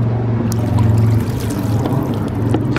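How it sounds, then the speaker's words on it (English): Water pours and trickles steadily over parts of a Keihin 645B carburetor from a 1974 Honda XL250 after soaking in carburetor cleaner. The splashing rinse is close, loud and continuous, with no talking. "Rinse it off with water."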